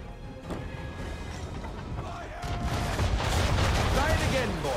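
Ship cannons firing during a naval battle in Assassin's Creed III, a rolling crash of heavy shots that builds louder toward the end beneath a spoken voice.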